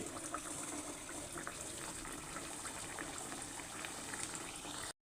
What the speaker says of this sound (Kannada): ಈಗ ಎಣ್ಣೆಲಿ ಹಾಕಿ ಕರೆದ್ಬಿಟ್ಟು ತೋರಿಸ್ತಾ ಇದ್ದೀನಿ